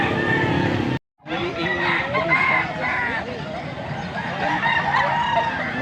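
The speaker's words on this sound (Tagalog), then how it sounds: "Stag pa lang to." A young rooster (stag) at a gamefowl sale in Pampanga crows loudly and clucks up close, with repeated rising calls and a brief silent gap near the start, over busy crowd noise.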